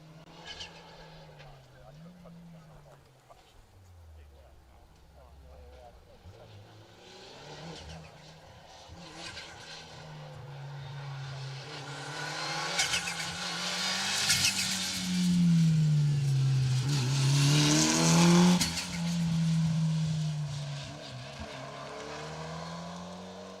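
A Mitsubishi Evo 9 rally car on an asphalt stage of Rally Ceredigion approaches from a distance, its engine rising and falling through gear changes to a loud pass, then fading up a hill, with commentary voices over it.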